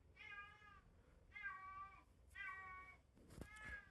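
A domestic cat meows insistently to be fed: four drawn-out, wavering meows in a steady rhythm, close and fairly loud, with no one talking.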